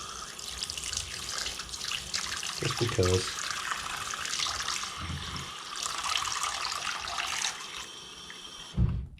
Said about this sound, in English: Let me get some warm water